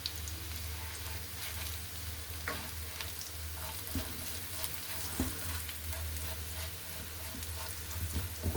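Garlic and dried coriander sizzle and fry in a pan for rabbit molokhia, a steady close crackle with occasional stirring clinks and no voices.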